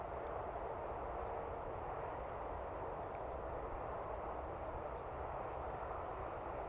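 A WEFONE WF40 GPS gimbal 4K drone flies with a steady broadband whir and hiss of its rotors that holds constant throughout.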